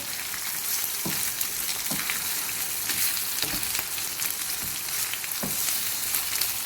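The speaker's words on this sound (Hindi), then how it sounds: "दो प्याज मैंने दरमियाने लेके काटे हैं, और इसको इसमें हम फ्राई करेंगे।" Two medium chopped onions fry in a pot with a continuous close sizzle, broken by a few soft stirring knocks, and no one speaks.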